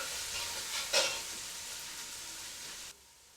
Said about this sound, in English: add 1 red onion which has been finely chopped. Mix the ingredients well and cook until the onions brown.